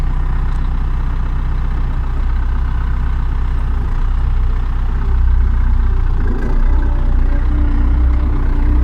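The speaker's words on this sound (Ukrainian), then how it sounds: "Трактор їде" A heavy tractor engine rumbles steadily and loudly throughout while ploughing a frozen garden, a low continuous drone with slight shifts in tone partway through.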